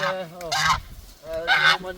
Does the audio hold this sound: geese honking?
yes